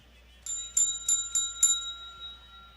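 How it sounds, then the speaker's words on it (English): A small hand bell struck five times in an even, ringing sequence, each clear metallic strike leaving a sustained tone that lingers and fades in an otherwise quiet room. "That's an actual bell too."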